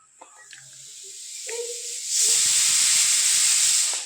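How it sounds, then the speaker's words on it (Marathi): A pressure cooker building to a loud, sustained whistle and hiss of escaping steam, close by, after a quieter stretch with a few faint kitchen clinks. "कुकरची शिट्टी व्हायला लागलेले आहे"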